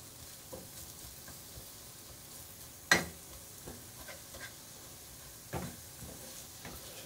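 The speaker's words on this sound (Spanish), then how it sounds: "Empezamos a pochar nuestra cebolla." Chopped onion sautéing in a frying pan, a quiet steady sizzle with scraping stirs and a couple of sharper utensil knocks against the pan.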